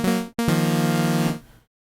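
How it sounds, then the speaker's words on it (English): The Electra X synthesizer plays its initialized default preset, a bright buzzy sustained tone with a strong harmonic series, struck twice: a short note, a brief gap, then a longer held note that cuts off cleanly. "initialize in the preset is gonna set it back to its default, and it'll sound like this"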